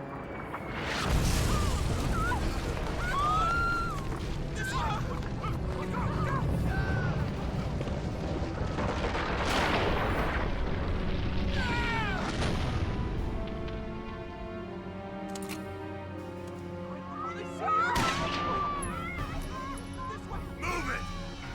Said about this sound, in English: What was that? Explosion. That sound. Artillery.